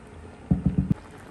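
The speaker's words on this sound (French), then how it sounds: "on va laisser réduire notre sauce quelques minutes" Pasta sauce simmering and reducing in a pan, heard as four quick, close, low bubbling plops in a row over a faint quiet background.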